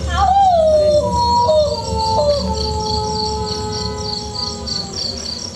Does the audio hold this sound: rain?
no